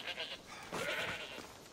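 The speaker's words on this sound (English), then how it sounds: "Is that a goat?" A goat bleats in Assassin's Creed Odyssey, two short wavering calls at low volume, with faint background sound from the game around them.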